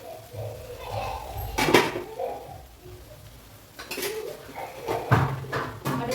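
Cooked rice tipped into a pan for lemon rice and mixed, heard as clanking utensil knocks and scrapes against metal at intervals, fairly close, with quieter gaps between.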